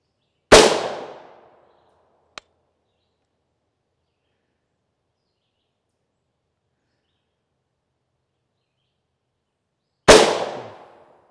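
Two loud, sharp rifle shots of M855A1 ammunition from a 16-inch barrel striking a Level III+ steel armor plate, each a crack with a ringing decay, spaced far apart with a faint tick between and silence otherwise.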